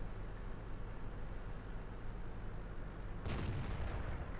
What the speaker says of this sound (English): we managed to get a shot into him and finish him off